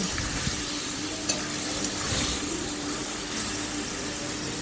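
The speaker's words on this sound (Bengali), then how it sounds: "এরপরে মশলা জলটা দিয়ে ভালো করে নেড়ে নেব" Rohu fish curry in a pan being stirred after spice water is added, giving a steady close sizzling hiss with soft stirring scrapes throughout and no talking.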